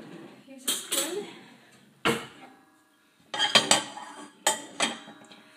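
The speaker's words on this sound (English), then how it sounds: "I'm going just to spoon the mixture now into the silver trays" A spoon clinks and scrapes as a sticky homemade chocolate mixture is spooned into silver trays, giving sharp metallic taps in small clusters separated by brief quiet gaps.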